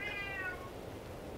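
A single short, faint meow from a cat, rising then fading within a second, heard alone against quiet room noise.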